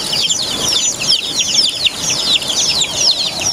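Newly hatched chicks kept penned up on a farm peep constantly, a dense chorus of high, rapid chirps close by with no talking.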